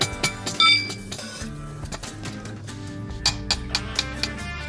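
Polyurethane suspension bushing being tapped into place with a hammer, a series of sharp metallic clinks and knocks close up, some doubled, spaced irregularly over a faint background hum.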